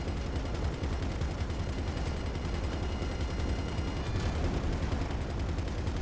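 Rapid, continuous automatic gunfire hammers at a vehicle in GTA Online, with the shots blurring into a dense, loud, unbroken rattle for the whole stretch.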